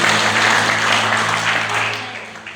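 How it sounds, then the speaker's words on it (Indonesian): A church congregation at a GBI service in Langkat claps together in a dense, sustained round of applause that fills the room and tapers off slightly toward the end. "Kita berikan tepuk tangan buat Tuhan."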